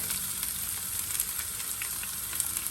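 Onions and two green chilies frying with garlic in hot oil for chili idli, a steady, dense sizzle that holds evenly throughout with no voices.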